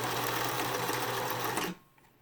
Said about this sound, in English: all I'm going to do is straight stitch over top of it a few times